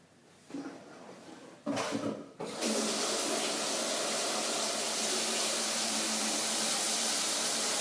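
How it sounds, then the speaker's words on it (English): Tap water pours into a stew pot for venison scrap stew. A few soft clatters come first, then a steady, full rush of running water continues to the end. "we're going to fill this with just enough water to cover up"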